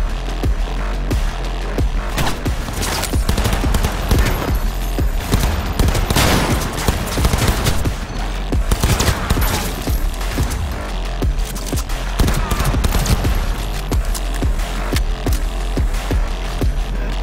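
Gunfire in the video game Cyberpunk 2077 rattles out in loud, rapid volleys that barely let up, with dense overlapping shots and bursts running continuously throughout.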